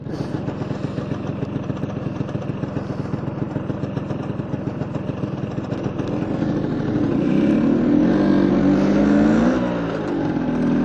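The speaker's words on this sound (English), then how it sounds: "Just wait for this car to go." A car passes on a road close by, its engine rising to a broad loud swell midway and then fading, over a steady rhythmic idle of a nearby motorcycle or cruiser engine.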